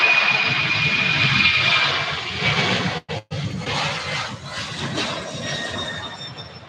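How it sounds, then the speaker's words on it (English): A Boeing 767-300 jet at Louisville airport, bound for Fort Lauderdale, roars steadily with a broad, loud engine rush and a thin high whine, briefly cut by two short dropouts, then resumes. "starting with flight 2330, headed to Fort Lauderdale, Florida, Boeing 767-300"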